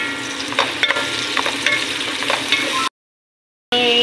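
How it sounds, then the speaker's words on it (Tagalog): Mushrooms going into a sizzling pan with chicken for fettuccine pasta, a loud close frying hiss with stirring knocks, cutting to silence before the sizzle returns briefly. "Ngayon, lalagay niya natin yung ating mushroom."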